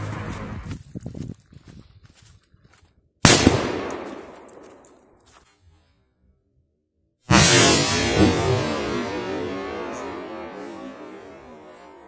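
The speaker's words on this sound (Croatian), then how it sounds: "Ova petarda je bliža." Titan 5 firecrackers go off outdoors: a few small crackles, then a sharp loud bang that rings and fades, and after a pause a second, bigger blast with a long rumbling decay.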